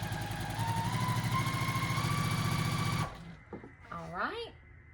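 A sewing machine hums steadily and close for about three seconds while stitching a quilt block, then stops. A voice speaks briefly afterward.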